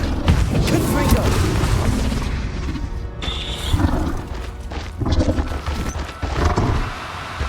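Confringo spell blasts in the game Hogwarts Legacy boom loudly amid a chaotic fight, with crashing impacts and dense layered combat effects continuing throughout, while a voice talks at points.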